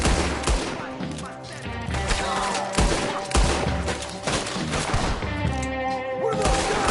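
Rapid volleys of gunfire crackle and boom in Red Dead Redemption 2, dense overlapping shots and bursts filling the scene loudly and close, with voices talking over the shooting.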